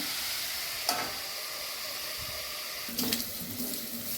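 Curry leaves rinsed under a running kitchen tap while bitter gourd fries nearby; a steady wash of flowing water runs throughout, with a couple of brief splashy bursts and a faint sizzle beneath.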